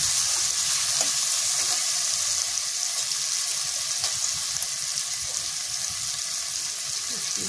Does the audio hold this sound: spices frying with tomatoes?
yes